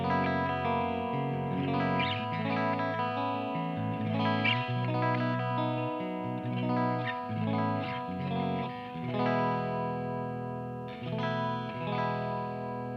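An electric guitar played through the clean channel of a Mezzabarba Trinity amplifier rings out in sustained chords and melodic notes, loud and close, with no speech.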